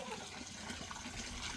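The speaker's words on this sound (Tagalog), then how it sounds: "Ayan, madaming tubig." Plentiful water runs and trickles at a fruit farm in the Philippines, a faint but steady gurgling flow with no talk.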